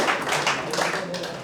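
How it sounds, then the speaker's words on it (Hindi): A crowd gives loud clapping for a personality at a talk, with diffuse hand claps and a murmur of voices running through the brief stretch. "उस पर्सनालिटी के लिए पहले जोरदार ताली बजाना।"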